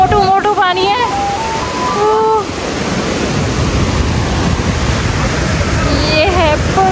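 Heavy water pouring at a waterfall, a steady broadband roar filling the clip from start to finish, with people talking over it and a voice now and then.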